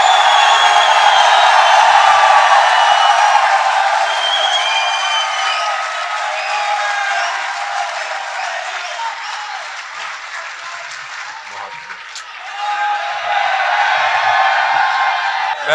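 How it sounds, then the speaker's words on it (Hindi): A crowd at a poetry gathering applauds and cheers to welcome the poet Ali, loud sustained clapping with scattered whoops that eases slightly, dips, then swells again near the end. "अली भाई के लिए भरपूर तालियां कीजिए"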